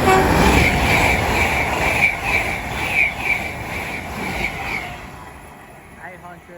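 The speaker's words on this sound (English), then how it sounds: "Soon to come through now will be a Great Western Railway service from London Paddington to" A Great Western Railway service from London Paddington to Weston-super-Mare rumbles through Didcot Parkway station on the Great Western Main Line, a loud, close roar with a steady tonal whine and rhythmic wheel beats that fades as the train moves away.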